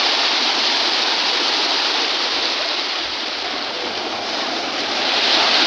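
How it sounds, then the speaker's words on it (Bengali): Ocean waves at Digha beach breaking and washing in a continuous loud roar of surf, close and steady, with no voices over it. "ভালোই বড় বড় ঢেউ আসছে।"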